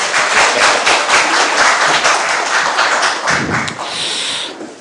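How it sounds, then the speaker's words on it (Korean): Audience clapping at a political reform debate in a hall, dense sustained hand claps at fairly loud level throughout, thinning slightly toward the end, with no clear talk. "박수 한번 쳐주시면 좋겠어요."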